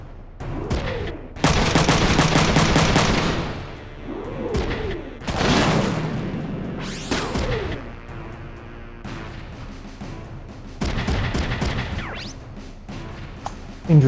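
Shotgun counterattack fire in the mech strategy game Front Mission 3, loud booming bursts of rapid shots in several separate volleys, broken by mechanical whirs and pauses, with no talking.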